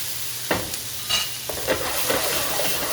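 A spoon stirs a pot of vegan Jamaican stew peas over the heat, making several soft scrapes and knocks above a steady low sizzle, heard close and without talk.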